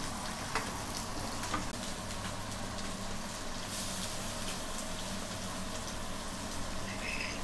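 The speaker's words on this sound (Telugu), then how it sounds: "ఫిష్ కర్రీ కోసము ఉల్లిగడ్డ వేగిందండి, బాగా ఎర్రగా వేగింది" Onions fry in a pan for fish curry, a dense continuous sizzle with a faint bubbling crackle throughout, steady and close with no voices.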